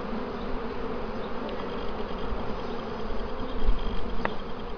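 A continuous close drone of bees working at a beehive, steady and dense, swelling slightly louder toward the end.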